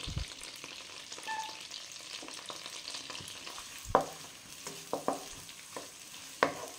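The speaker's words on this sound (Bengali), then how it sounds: "পেঁয়াজটা একটু ভাজা ভাজা হয়ে যাক" Chopped onions fry in refined oil and melted butter in a frying pan, giving a soft continuous sizzle broken by several sharp clatters of stirring against the pan.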